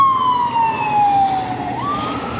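An ambulance siren wails loudly beside a road, its tone sweeping down as it passes close by and then rising again while it moves on.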